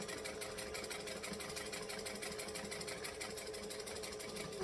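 A sewing machine stitches a Magdalena Circle Bag at a fast, continuous pace, its rapid motor whir and needle chatter steady throughout at moderate volume.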